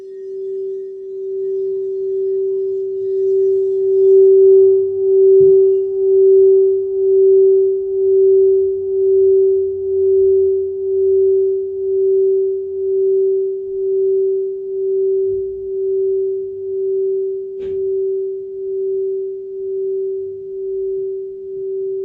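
Crystal singing bowls ring in a single pure, sustained tone that pulses slowly in volume, with faint low rustles and one brief knock partway through, no voices.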